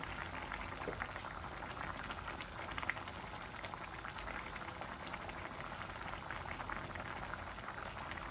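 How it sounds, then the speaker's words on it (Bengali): Rui fish curry simmering in a pan, a soft continuous bubbling and fizzing of boiling liquid, close and quiet, with no talk over it. "মাছটা ভালো করে বলক আসতে হবে তো।"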